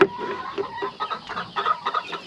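Rhode Island Red hens cluck softly in a homestead coop at dusk, a close cluster of short, irregular calls with no talking.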